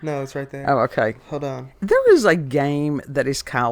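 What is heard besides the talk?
No everyday noise stands out behind the speech.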